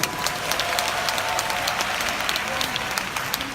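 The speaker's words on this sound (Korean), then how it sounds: "여러분들 축하의 박수 좀 부탁드립니다." Steady applause from a large audience at a Nu Skin event congratulating a newly chosen model, many hands clapping densely and continuously throughout, fairly loud and close.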